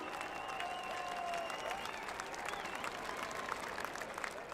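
Crowd at Cheltenham races applauding and cheering, a dense steady wash of clapping and voices that stays loud and continuous throughout.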